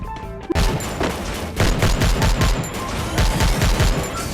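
Rapid bursts of cartoon gunfire from a Worms-style artillery video game, a dense run of loud repeated shots and crashes that carries on steadily with no talk over it.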